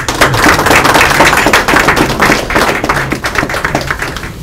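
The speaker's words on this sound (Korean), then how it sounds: "다시 한번 힘찬 박수 부탁드리겠습니다" A room of attendees at a Federation of Korean Trade Unions meeting with Lee Jae-myung breaks into dense, steady applause, many hands clapping close together for several seconds.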